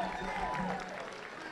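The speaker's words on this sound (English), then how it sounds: "Please, a round of applause for all our participants today." An audience at a Black History Month celebration applauds the participants with a dense, steady patter of clapping, and a voice speaks over it.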